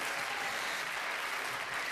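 A steady wash of audience applause at a live comedy stage show, many hands clapping evenly and continuously without a break, heard from a slight distance and fairly soft.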